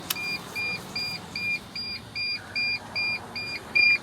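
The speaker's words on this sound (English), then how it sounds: "Why does that beep?" Warning chime from a T1N Sprinter van with no key in the ignition, a steady series of evenly spaced electronic beeps, about a dozen in four seconds, close and alone over faint background hum.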